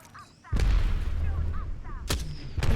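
Gunfire in Apex Legends: a loud burst of several shots erupts after a brief quiet start, with a couple more sharp cracks near the end.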